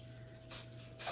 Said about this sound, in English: y'all gotta hold it back and spray